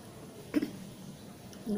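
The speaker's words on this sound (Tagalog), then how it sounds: "Inuubo ako." A brief, faint cough, then a second soft throat sound near the end, both quiet and close against a low background.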